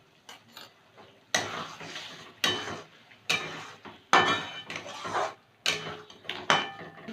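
Spoon scraping and stirring peas and paneer masala in a pan, sharp clinking strokes in irregular bursts with short quiet gaps between them.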